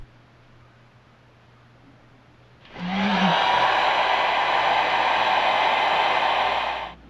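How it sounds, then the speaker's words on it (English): A heat gun shrinks a heat shrink sleeve over a soldered battery wire connection, switching on after near silence into a loud, steady blowing hiss that holds for about four seconds before cutting off. "followed by using the heat gun to shrink"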